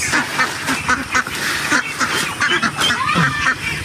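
A flock of ducks (itik) being fed mixed corn feed quack loudly and repeatedly close by, harsh overlapping calls in quick irregular bursts that fill the whole stretch.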